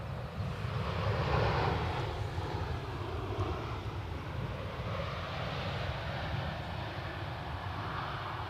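An EasyJet airliner at a windy Edinburgh Airport gives off a steady, broad jet roar that swells slightly early on and then holds level throughout, with wind noise mixed in and no voices.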